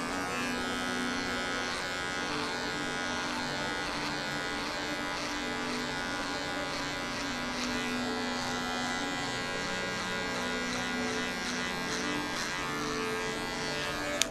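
Electric hair clippers with a zero guard cut a mid fade in a barbershop. The motor gives a loud, steady buzz that runs unbroken and close throughout, with no talking.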